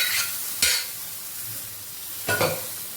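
Spinach greens sautéed in oil, a gentle sizzle with two distinct stirring scrapes, one early and one late, close and quiet, with no speech.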